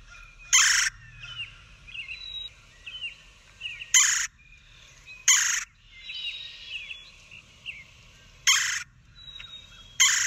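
Red-bellied woodpecker calls outdoors: loud, harsh rolling calls repeated at intervals of a few seconds, with fainter chirping bird notes in between over a quiet background.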